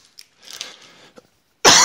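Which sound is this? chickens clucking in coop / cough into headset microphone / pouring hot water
cough into headset microphone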